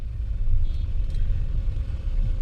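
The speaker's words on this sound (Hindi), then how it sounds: "ट्रैफिक खचाखच भरी हुई है।" Heavy road traffic at the Regal Cinema signal in Mumbai after rain, a steady low rumble of car engines with a faint high tone briefly rising, no one speaking.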